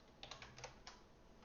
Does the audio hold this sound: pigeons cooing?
no